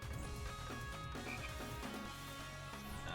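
Frogs conjured from cards in the roguelike card game Touhou: Lost Branch of Legend give repeated croaks over steady game music, with no speech.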